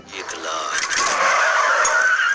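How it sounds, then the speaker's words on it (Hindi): Tires squeal in a long rising screech as a car drifts to a halt in a film chase scene, loud and close, with someone speaking over it. "यहाँ पर फाइनली गाड़ी को ड्रिफ्ट मार के रोक देता है"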